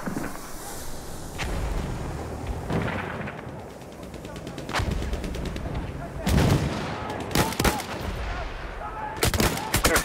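Enemy machine gun fire in the Battlefield 1 assault on the breach at Saint-Quentin, rapid bursts of gunshots cracking repeatedly over a dense, rumbling battlefield din, with distant artillery thuds mixed in.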